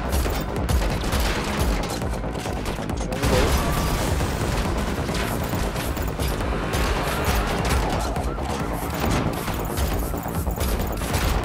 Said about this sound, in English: Shoot the tires.